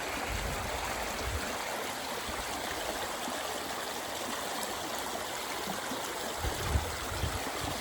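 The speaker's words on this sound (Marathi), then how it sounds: "किती पाणी जात असेल खाली बघा एवढ्या वड्याला इतकं वाहत आहे" Floodwater after heavy rain surges down a small stream, making a loud, unbroken rushing roar close by, with no talk over it.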